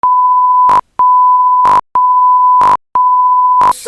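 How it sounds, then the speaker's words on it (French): A game show buzzer sounds as loud, sustained pure-tone beeps, four of them in a steady rhythm, each broken off by short clicks, with no voices. "il faut appuyer sur le buzzer."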